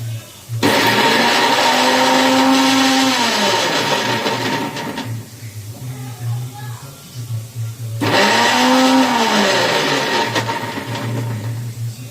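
A kitchen blender grinds tomato and green chili into a paste in two loud, whining bursts with a lower, rougher stretch between them, while someone talks over it.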